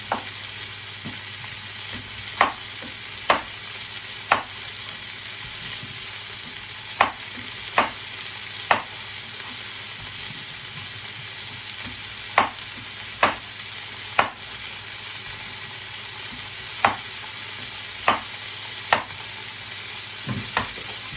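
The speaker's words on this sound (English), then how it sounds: "So the meat's browning off quite nicely now." Beef browning in a pan for a batch-cooked casserole gives a steady close sizzle, with sharp utensil taps and scrapes against the pan at irregular intervals, some in quick pairs; no speech.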